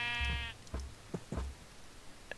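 A sheep in the Minecraft video game gives one clear, bleating cry at the start, followed by a few soft, low thumps and faint clicks in an otherwise quiet scene.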